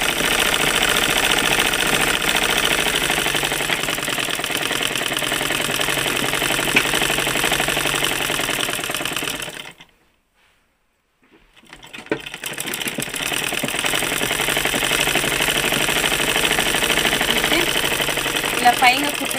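A sewing machine stitches dress lining onto the main piece with a fast, steady mechanical whir and rattle, stopping for about two seconds in the middle before it starts running again.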